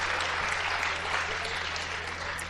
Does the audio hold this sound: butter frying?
no